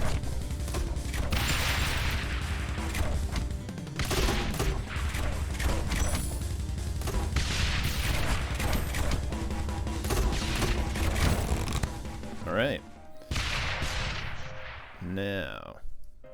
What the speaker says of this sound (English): It's great when the mortars come in.